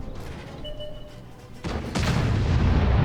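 Artillery fire in a video game: two heavy, broadband booms land about a third of a second apart, the second swelling into a loud, sustained rumbling roar.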